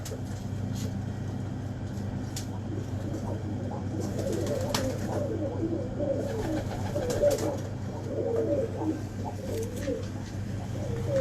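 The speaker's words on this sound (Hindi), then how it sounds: "ये कबूतर" Pigeons coo in a low, repeated murmur at close range, with a steady hum and faint traffic in the background and occasional sharper bird calls.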